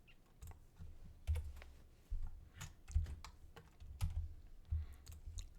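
Keyboard shortcut presses while 3D modeling software marks seams: a run of crisp, close key clicks in irregular clusters, each tap sharp and distinct, with brief pauses between bursts and no voice.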